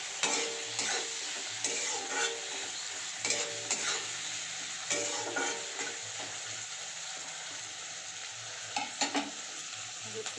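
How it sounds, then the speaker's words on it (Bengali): Onions sizzling in hot oil in a pan, a continuous close fry with periodic louder stirring scrapes every second or two; no voices. "পেঁয়াজটা দিয়ে দিয়েছি তেলে আমি।"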